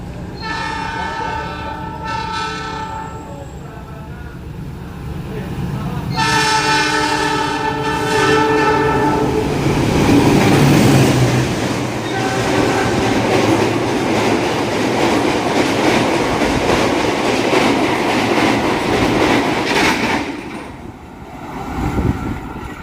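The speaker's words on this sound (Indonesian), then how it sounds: "Jalur 2 dari arah barat berjalan langsung kereta api Malabar." The Malabar passenger train passes through a station and sounds two long, loud, multi-tone horn blasts. A heavy rolling rumble with clattering wheels follows as the cars go by, then fades near the end.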